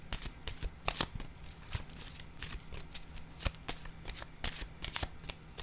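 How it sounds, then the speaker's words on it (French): Playing cards being handled, shuffled and placed on a table, a close series of crisp flicks, snaps and taps in an uneven rhythm, fairly quiet with no talking. "Je vais déposer une carte rose ici."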